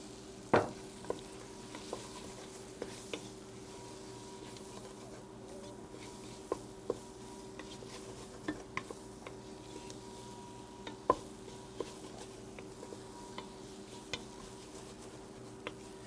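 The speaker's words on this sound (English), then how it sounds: "You want to keep stirring so you don't want to burn the flour." Flour being stirred into a roux in a pot for pumpkin soup, with a steady low cooking hiss and frequent light scrapes and taps of the spoon against the pot bottom, fairly quiet throughout.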